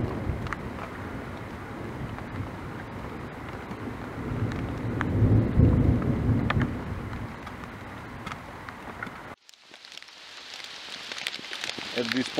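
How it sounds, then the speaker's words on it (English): Heavy rain pours steadily outdoors around an underground bushcraft shelter with a small wood stove, a dense broadband wash that swells midway with a low rumble like thunder, then drops away abruptly before the downpour resumes. "At this point it has started to rain really, really bad."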